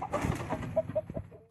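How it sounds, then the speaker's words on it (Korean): Chicken in a coop squawking and clucking in short bursts after a crossbow arrow misses it, close and agitated, about a second and a half. "화살을 빗맞은 닭이 비명을 지릅니다."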